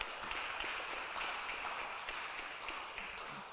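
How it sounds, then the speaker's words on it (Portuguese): Faint, dense applause from a church congregation, a steady wash of many hands clapping together at a distance with no voices on top. "Vamos aplaudir o nosso Deus bem forte como Ele merece"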